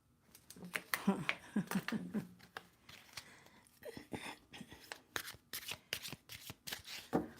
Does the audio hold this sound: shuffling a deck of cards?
yes